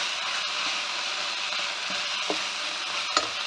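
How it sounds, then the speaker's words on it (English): Chilli garlic chicken sizzles steadily in a pan as coriander is stirred through, with occasional faint scrapes and clicks of the utensil over a continuous frying hiss. "I'm going to stir the coriander through it"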